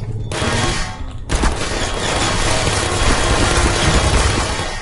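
Gunfire from turrets in the Portal video game, a dense, sustained rattle of rapid shots that keeps going after a brief lull, loud and continuous with no one talking.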